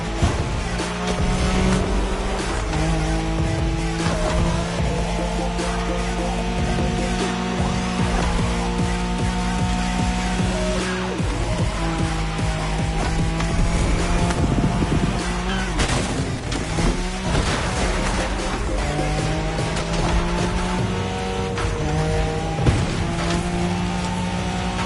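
A Nissan Skyline race car in The Crew Motorfest drives with a sustained loud engine roar and shifting revs, with occasional tire noise under game music.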